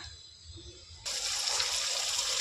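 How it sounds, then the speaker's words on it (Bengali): Rinse water from a mixer grinder bowl pours into a cooking pan with a sudden broad splashing rush that starts partway through and holds steady and close, after a quieter background hiss. "এবার দেখো এই মিক্সির বাটি ধোয়া জলটা আমি দিয়ে দিলাম"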